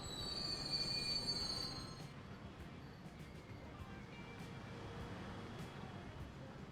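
Train rolling through a Transport Fever 2 rail layout, its wheels squealing high and steady for the first two seconds before easing into a continuous low rumble of rolling stock.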